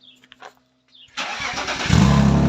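A BMW 328i cranks and fires up, quiet ticks giving way to a loud steady engine roar that swells deeper as it settles into idle, close by.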